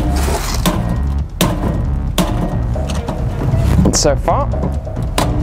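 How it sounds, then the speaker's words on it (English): A hammer whacks a plastic toy safe on the ground in a few sharp, hard knocks spaced across the clip. Someone talks over the hits. "Let's just whack this thing and try and break it, I guess. Start off with the hammer."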